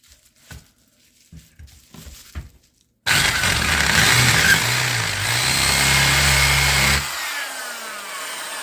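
A power drill whirs loudly and steadily for several seconds as it drills into wood, its motor pitch dipping under load before it cuts off, preceded by a few quiet knocks.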